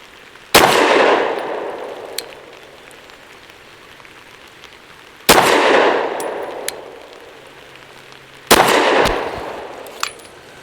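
Three loud, sharp pistol shots from a Derya Arms DY9 with an Island barrel firing Hornady American Gunner 124 grain rounds, spaced several seconds apart. Each crack trails into a long ringing decay, with faint clinks between shots.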